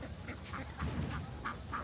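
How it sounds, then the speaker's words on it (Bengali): A flock of ducks forages for paddy grain in a harvested rice field, letting out faint, scattered quacks over a low outdoor background. "এই হাঁসগুলা মনের আনন্দে খেয়ে বেড়াচ্ছে ধান"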